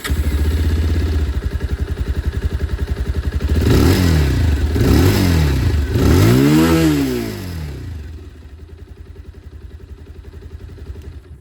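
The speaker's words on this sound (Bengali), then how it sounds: "চলুন আপনাদেরকে আমি একবার এক্সস্ট সাউন্ডটা শুনিয়ে দিই।" A 2026 Bajaj Pulsar 220F motorcycle idles with a close, throbbing exhaust beat, then is revved three times in rising and falling bursts before settling back to a steady idle.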